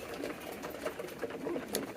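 Pigeons coo softly in a loft, low throaty calls repeating over faint background noise.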